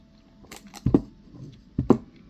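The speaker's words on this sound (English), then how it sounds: "Let me get a sip of water." A person sips water, two quick close swallowing gulps a second apart with soft mouth sounds, quiet and with no talk.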